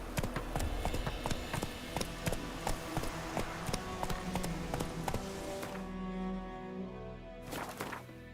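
A horse galloping in The Witcher 3, rapid rhythmic hoofbeats thudding close and loud for about six seconds, then slowing to a few scattered steps near the end.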